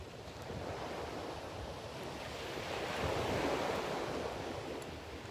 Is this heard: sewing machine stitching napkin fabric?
no